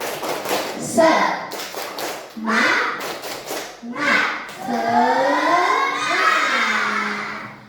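A classroom of pupils performs the rhythmic 'tepuk semangat' clap routine, bursts of hand claps mixed with loud chanted children's voices in several short phrases, the last one drawn out and sustained.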